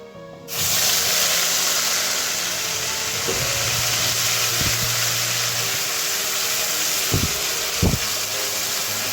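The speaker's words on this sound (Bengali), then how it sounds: "দিয়ে দিব পেঁয়াজের পেস্ট" Onion paste hits a hot pan with bay leaf, cinnamon, cardamom and peppercorns for egg korma, setting off a sudden loud sizzle that holds as a steady hiss with a few light stirring knocks.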